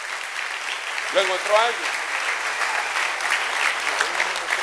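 Congregation applause fills a church in a steady, moderately loud wash of clapping, while a voice speaks briefly over it near the start.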